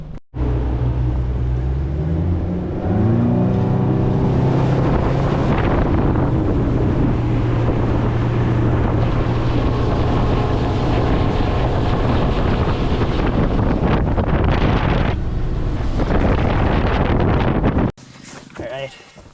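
Motorboat running across Dale Hollow Lake, a steady engine drone with wind buffeting the microphone and water rush, continuous and close for most of the clip before cutting off near the end.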